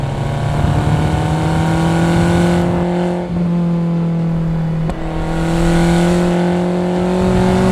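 A Lotus Esprit V8 pulling hard out of a corner, its engine note climbing in a steady, loud drone with two brief dips as it shifts, heard up close from inside the car with no talking.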